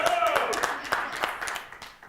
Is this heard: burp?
no